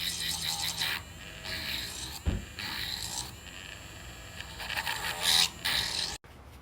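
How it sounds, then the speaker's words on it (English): An electric nail drill files the top of an acrylic nail, giving close, uneven bursts of high-pitched grinding and scraping between short pauses, ending with a sudden cutoff. "I'm going to change my nail bit on my drill to this so I can drill the top of it"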